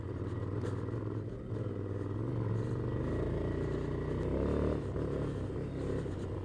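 A Ducati Scrambler Desert Sled motorcycle rumbles over bumpy off-road terrain, its engine droning steadily beneath wind buffeting and rattling clatter from the rough ground.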